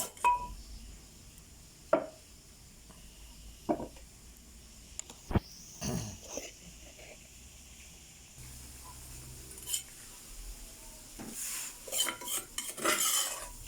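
A metal spoon scrapes and clinks inside a pot as pounded chili and lemongrass are stirred into a Thai fish curry, with irregular knocks and rattles building to denser stirring near the end.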